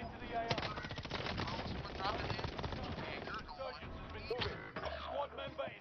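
Gunfire during a Call of Duty: Warzone match, with dense rapid automatic shooting and scattered single shots going on under voice chat and in-game callouts, fairly loud and constant.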